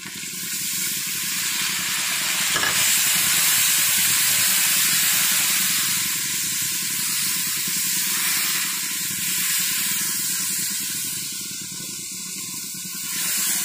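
Water meets hot frying spices in a pan for aloo matar, setting off a loud, continuous steam hiss and sizzle that lasts many seconds and eases slightly toward the end.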